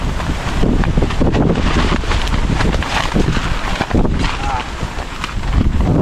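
Strong wind buffets the microphone at a campsite beside San Roque Dam, a loud, steady roar with gusty swells, and a voice talks beneath it.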